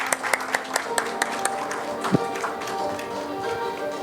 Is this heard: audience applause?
yes